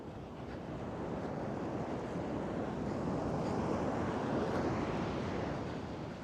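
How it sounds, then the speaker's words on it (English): Big ocean waves surge onto Baker Beach in San Francisco, a steady, loud roar of surf with heavy wind buffeting the microphone throughout. "The waves, they're just huge."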